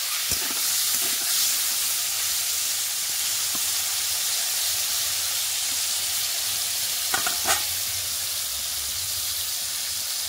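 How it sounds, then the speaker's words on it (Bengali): Turmeric-coated fish frying in hot oil in a wok, giving a steady, even sizzle and hiss throughout, with a few brief crackles and spatters near the end and no talking. "কড়াইয়ে তেল দেওয়ার পর তেলটা গরম হয়ে গেছে, হলুদ মাখানো মাছটা দিয়ে ভেজে দেবো।"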